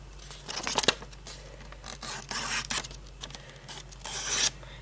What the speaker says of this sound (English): you can run your fingernail over it once or twice